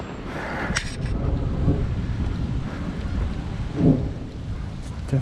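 Rain falls steadily during a thunderstorm over a field on Staten Island, with soft low rumbles and a few louder cracks of thunder over a constant hiss.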